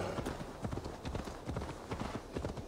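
Quiet, steady clip-clop of a horse's hooves as it is ridden at a trot in Assassin's Creed Valhalla, even rhythmic footfalls throughout.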